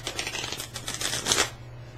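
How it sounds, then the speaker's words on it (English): Tarot deck shuffled on a lap, a soft continuous riffling and papery rustle with small flicks, muffled and close for about a second and a half before stopping. "I'm going to do this shuffle on my lap"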